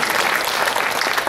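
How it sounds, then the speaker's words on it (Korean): A church congregation at a Sunday worship service claps together in a loud, dense burst of applause with no voices over it. "우리 주님 앞에 우리 영광의 박수 한번 드려드릴까요?"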